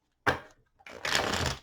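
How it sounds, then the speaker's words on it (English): Tarot cards being shuffled by hand: a short riffle burst, a pause, then a longer rustling shuffle, close and clear with no talking. "2 more shuffles."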